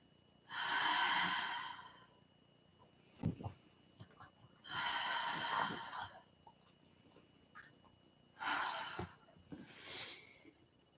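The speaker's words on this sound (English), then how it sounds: "If you hear my dog in the background" A dog snorts and huffs in a few separate bursts, fairly close, with quiet pauses and soft shuffling between them.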